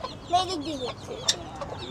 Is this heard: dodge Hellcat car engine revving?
no